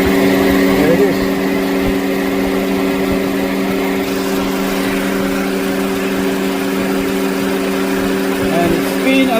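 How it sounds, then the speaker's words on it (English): A car's AC compressor clutch spins steadily after the air conditioning is switched on, a continuous close engine-like hum with strong tonal bands running evenly underneath, with talk over it. "So now we're going to turn on the AC and we'll see how fast that goes."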